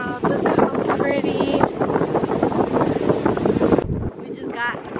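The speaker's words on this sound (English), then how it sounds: "It's super windy." Strong beach wind in Puerto Rico buffets the microphone in rough, loud gusts, with a voice talking underneath and a brief lull near the end.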